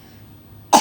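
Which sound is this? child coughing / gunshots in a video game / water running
child coughing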